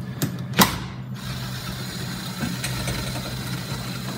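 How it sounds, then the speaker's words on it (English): A T40 driver backs out screws from the rear deck of a Polaris Slingshot SLR, with two sharp clicks at the start followed by a soft, steady ratcheting whir under faint background hum and no talking. "we're going to remove the 8 screws from the rear deck."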